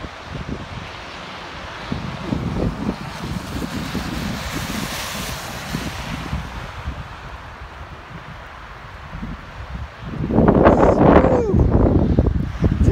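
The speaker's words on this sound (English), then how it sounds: "Damn, it's blowing." Strong wind gusts across a snowy mountain at Bear Mountain in Big Bear Lake, California, roaring and buffeting the microphone in a steady rush that surges louder near the end, with no one speaking.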